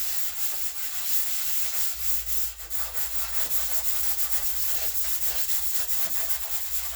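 Steady abrasive sanding on the rippled body panel of a 1962 Chevrolet Impala under restoration, a loud continuous rasping scrub with rhythmic strokes and no talk.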